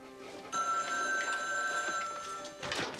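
A telephone bell rings loudly and steadily for a couple of seconds against a quiet indoor background, with a second burst starting near the end.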